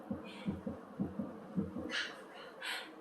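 Heartbeat sound effect in a Korean children's Bible story, a soft rhythmic thumping of paired low beats, with faint higher breathy noises near the end.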